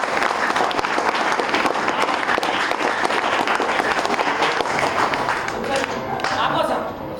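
Students at a school awareness program on human rights clap together in sustained, dense applause that fills the whole stretch, loud and steady before easing slightly near the end, with voices mixed underneath.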